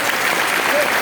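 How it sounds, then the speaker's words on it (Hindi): Dense audience applause at a motivational workshop, a continuous wash of clapping with voices mixed in. "बंदा बाकी तालियां के लायक है"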